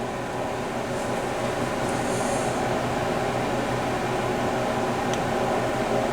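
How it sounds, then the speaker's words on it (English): A Pioneer PL-50 turntable motor, under repair for speed problems and a worn thrust bearing, runs with a steady, even mechanical hum and a faint whirr that holds at one level throughout. "If I put any torque on that motor, it just locks up."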